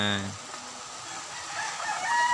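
A derby fighting rooster crows in its coop amid heavy rain, a drawn-out crow rising near the end over steady downpour.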